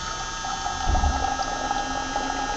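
A pump steadily fills a Quanser coupled water tank system, a constant low hum with faint trickling water, moderate and even throughout.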